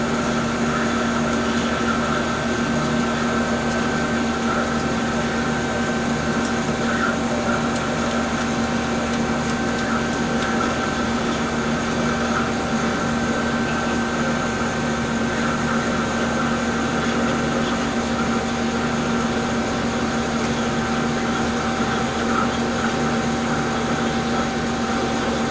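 A milling machine runs continuously through its final cutting pass, a loud, steady motor drone with sustained tonal hum and no breaks, close and alone.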